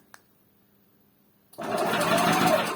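A faint click, then after a short silence an ITC Power GG 35EI Pro inverter generator engine starts abruptly and runs steadily with a loud, even hum and whir.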